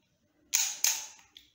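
A Canon EOS 60D DSLR fires its shutter at a slow speed: a crisp mechanical clack, a second clack about a third of a second later, then a faint click, all close and otherwise quiet.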